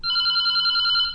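A telephone on a rural radio call-in programme rings with one continuous electronic trill, loud and close with nothing else over it.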